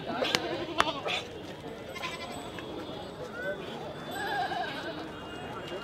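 Goats bleat at a busy livestock market in Lucknow, India, where animals are sold for Kurbani; a few wavering calls rise over a constant murmur of crowd noise and people talking.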